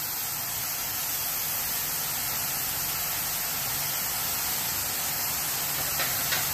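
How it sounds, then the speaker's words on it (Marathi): Chopped tomato frying with onion in a pan, giving a steady, even sizzling hiss that holds at a constant level throughout with no talk. "आता हे चांगलं आपण फ्राय करून घेऊ।"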